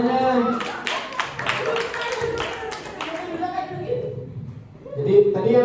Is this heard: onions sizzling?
no